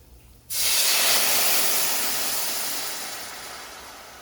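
Pinot Noir poured into a hot pan bursts into a loud, close hiss and sizzle that erupts suddenly, then slowly settles and fades over a few seconds, with no talking.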